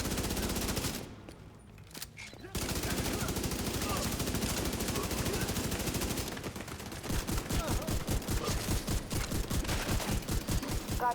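Shotgun blasts and gunfire from The Division 2 video game ring out as loud, rapid volleys, with a brief lull early on before steady, rhythmic bursts of shots carry through to the end.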